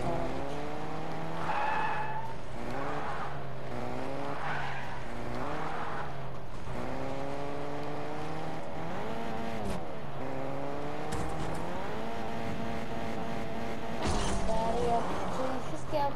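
Cars in Fortnite revving with rising and falling engine tones, plus tire squeals and skids, heard continuously under someone speaking Polish.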